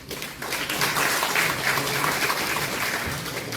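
An audience at a saxophone concert and book-launch celebration claps for several seconds, a dense, even wash of applause that swells quickly and holds steady, with no voices over it.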